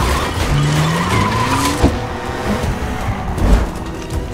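A car speeds hard with a rising engine whine and a long tire skid, loud and close, with a sharp thump near the middle and another later.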